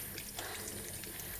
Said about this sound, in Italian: Un attimo mi lavo le mani